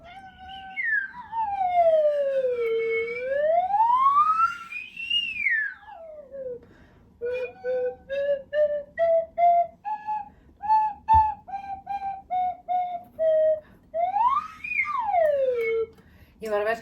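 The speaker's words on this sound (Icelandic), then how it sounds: "já, sleðaflauta. Já, og hún hljómar svona." A slide whistle plays loud, sweeping glides that swoop down and up, then a run of short, evenly spaced toots on a steady pitch, ending with another rising and falling swoop.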